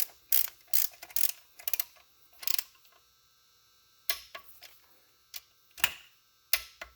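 Quiet, sharp ratchet clicks in short bursts with pauses as bolts are tightened on a ZF5 transmission being swapped into a Bullnose truck, close by and alone.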